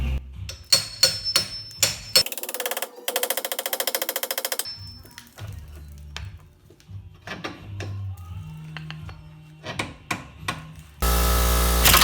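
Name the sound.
ball joint tool popping out Nissan Altima control arm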